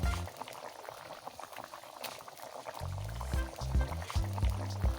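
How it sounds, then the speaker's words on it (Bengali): Fish curry gravy with potatoes and cauliflower bubbles at a boil in a pot, steady close gurgling and popping bubbles that grow louder and more rhythmic toward the end. "পরিমাণ মতো লবণ দিয়ে দেব এবং ঝোলটাকে ফুটতে দেব।"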